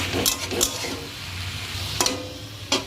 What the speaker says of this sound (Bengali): তো শাকটা আমি আর একটুখানি নাড়াচাড়া করবো